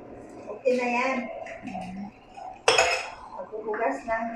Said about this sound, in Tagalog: magbubugas ng pinggan dito sa Wakra